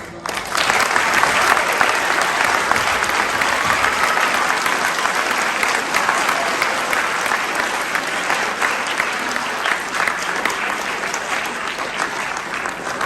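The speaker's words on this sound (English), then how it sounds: "a round of applause and thank you, Mr. Huntsberger and his wife, for sharing today" A large audience of students and guests at a school Veterans Day ceremony breaks into sustained, loud applause, a thick unbroken wash of many clapping hands that holds steady for over ten seconds.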